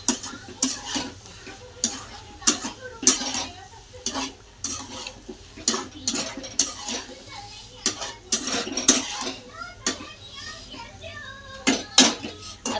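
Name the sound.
stirring brinjal potato sabzi in a pan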